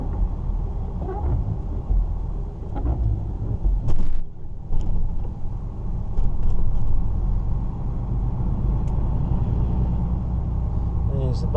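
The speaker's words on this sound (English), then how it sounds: "There's the bus." A bus rumbles nearby with a steady low engine drone and a brief burst of louder noise, while people talk over it throughout.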